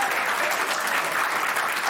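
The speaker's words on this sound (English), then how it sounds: "They just applauded my finger" Dense, continuous applause from a television studio audience, close and loud throughout.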